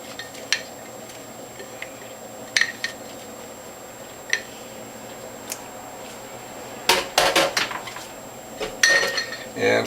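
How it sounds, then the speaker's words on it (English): A spatula scrapes leftover apple and ginger pulp out of a container with scattered clinks and taps, then a louder burst of scraping and knocking near the end. "Let's get a spatula to get the rest of that out."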